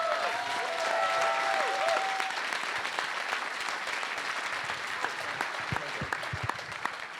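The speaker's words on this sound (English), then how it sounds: "Round of applause for those two." A crowd at a hackathon closing ceremony applauds steadily, with dense clapping that holds at an even level for several seconds before thinning slightly toward the end.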